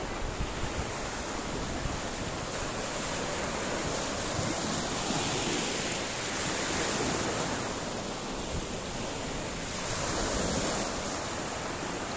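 Sea waves roll in at Kalapathar Beach on Havelock Island, a continuous broad wash of surf with gentle swells in loudness, mixed with wind buffeting the microphone and no talking.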